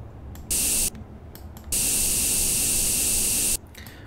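A spray paint can hisses in the video game Jazzpunk in loud bursts: a short spray, a pause, then a long continuous hiss of nearly two seconds, with faint clicks in between.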